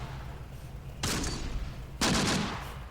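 Gunfire from units in the WW2 strategy game Close Combat, set in the North African desert campaign: two sharp, loud bursts about a second apart, each trailing off into a brief rumble over a low background hum.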